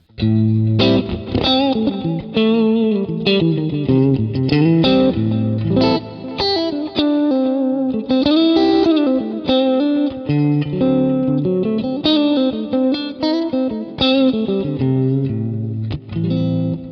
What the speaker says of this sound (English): So here's V clean